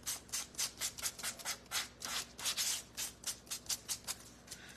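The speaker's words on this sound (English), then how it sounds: "let me sand our leaves" Rhythmic back-and-forth sanding of craft leaves for a flower pot project, a quick run of about twenty close, dry, scratchy strokes with steady pacing and no talking.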